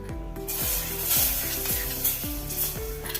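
Hot tempering poured into a pot of Kerala-style sambar sizzles and crackles loudly and steadily throughout, with a brief clatter of stirring near the start; no voices.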